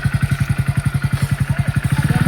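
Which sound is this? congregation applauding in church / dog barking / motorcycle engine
motorcycle engine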